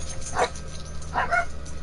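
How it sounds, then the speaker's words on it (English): Dogs bark twice in the background, two short muffled barks about a second apart over a low steady hum, fairly distant and moderately quiet. "the dogs just barked about something"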